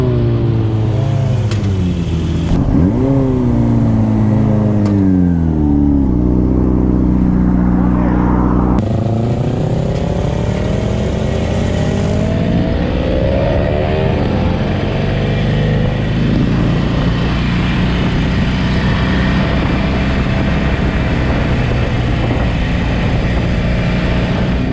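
A new motorcycle races up a mountain road, its engine loud and close, revving and shifting through rising and falling pitch sweeps under strong wind rush for the whole stretch.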